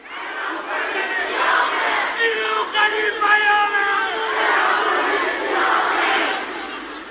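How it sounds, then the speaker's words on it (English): An angry crowd outside a prison in Karaj, Iran chants in unison, loud massed voices rising and falling in rhythmic, shouted phrases with a sustained roar throughout. "The crowd is angry, and they're chanting"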